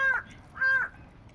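A crow outdoors gives two clear, moderately loud caws spaced about half a second apart, with faint background noise and no talking.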